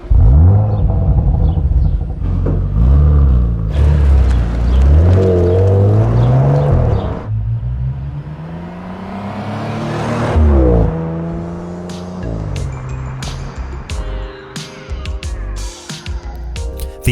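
A 2022 Audi RS4 drives on a road trip from London to Germany, its engine rumbling loud and close with rising and falling revs and a steady whir of the drivetrain, and no voices are heard.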